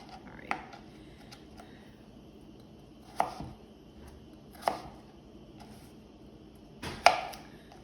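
A knife chops potatoes into chips on a cutting board, four separate sharp knocks spaced a couple of seconds apart, close and crisp against a quiet room.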